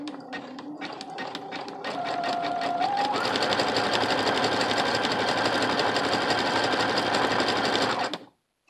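A sewing machine fitted with a presser foot runs steadily with a lengthened stitch, a close, even mechanical whir that rises in speed after a slower start and stops abruptly.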